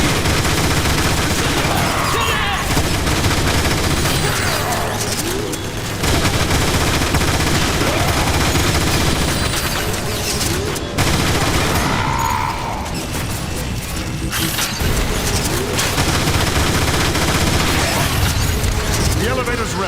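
Sustained heavy gunfire and explosions fill a Transformers War for Cybertron battle, with rapid automatic bursts and booms layered densely throughout, loud and close. Game character voices speak intermittently beneath the combat.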